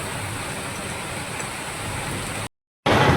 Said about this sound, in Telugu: వర్షం పడుతుంది. వర్షం చాలా దారుణంగా పడుతుంది.